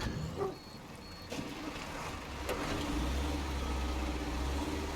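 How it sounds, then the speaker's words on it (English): A heavy truck's engine turns over and settles into a steady low rumble in SnowRunner, with a deep drone building in the last two seconds under faint ambient game noise. "Start up the truck."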